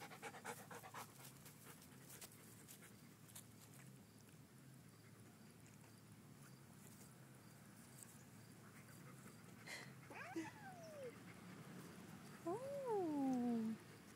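A tiger cat yowls and caterwauls a few times near the end during a scuffle with a playful Saint Bernard mix dog, after quiet panting and shuffling in a domestic room.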